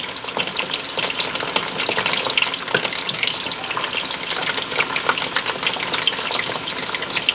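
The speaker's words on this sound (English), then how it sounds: "I'm not going to make you watch this boil and fry." Chicken pieces in a pan fry and bubble in a dense, close sizzle with scattered crackles and pops throughout, steady and loud with no voices.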